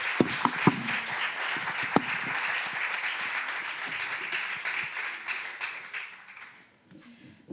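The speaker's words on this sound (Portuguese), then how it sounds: "um pedido de uma grande salva de palmas para as nossas oradoras" An audience at a business conference on ESG applauds its speakers with sustained, dense clapping, a few sharp louder claps standing out early, tapering off toward the end.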